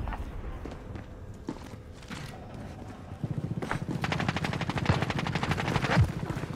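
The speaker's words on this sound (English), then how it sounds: "Someone's shooting something." Rapid automatic gunfire in Call of Duty Warzone, a game-match firefight, starts after a few seconds of quieter scattered sounds and then runs as a dense, steady, rhythmic burst of shots that builds toward the end.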